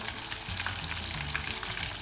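Steady crackling sizzle of breaded chicken frying in hot oil, continuous and close, with no voices.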